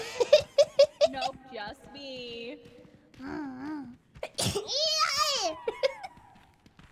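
A sneeze bursts out around the middle of a playful exchange between VTuber streamers, loud and abrupt between stretches of high, animated talking and giggly voices.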